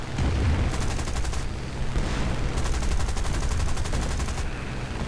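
Anti-aircraft guns firing in War Thunder, rapid continuous bursts of loud automatic fire layered over deep rumbling booms, sustained throughout with brief breaks between volleys.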